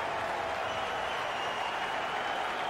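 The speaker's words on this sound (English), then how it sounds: "You can feel the energy in this crowd." A hockey arena crowd in the NHL 20 video game sends up a steady, fairly faint wash of cheering and applause with no break, alone without any talk.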